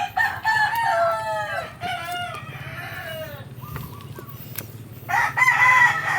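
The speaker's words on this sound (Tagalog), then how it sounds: "manok is everywhere dito sa aming manukan kasi nga manukan na" Chickens on a provincial chicken farm, with roosters crowing loudly and repeatedly close by, backed by steady clucking from the flock.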